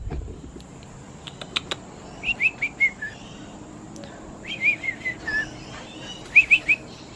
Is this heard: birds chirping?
yes